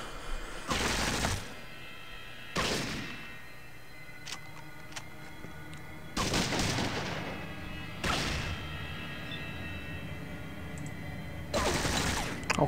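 Gunfire in the video game Fallout 2, five separate loud bursts of noisy shots spaced a couple of seconds apart, with quiet ticking and faint clicks between them.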